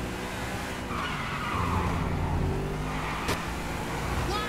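Car in the video game Grand Theft Auto 5 driving hard and skidding: a continuous engine roar with a long tire squeal, loud and close, steady throughout with a brief sharp knock near the end, no talking.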